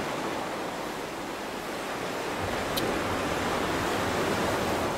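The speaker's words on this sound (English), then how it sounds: "So while y'all listening to this beautiful ocean wave," Continuous roar of ocean waves breaking on a shore, near and loud, with a soft swell in the middle and a light wind rush underneath, no talking.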